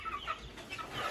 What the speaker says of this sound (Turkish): Bunlar horozlar işte.